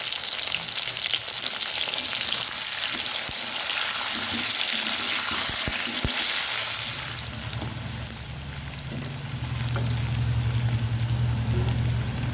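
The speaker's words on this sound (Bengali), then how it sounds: "এই ঘিয়ের মধ্যে আলু ভেজে নেব।" Potatoes frying in hot ghee, a steady close sizzle and crackle with occasional stirring clicks, running on continuously without talk.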